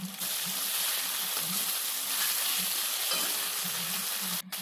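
Ginger garlic paste frying in hot oil for a prawn and pea curry, a steady close hiss of sizzling with soft stirring scrapes, alone without talk.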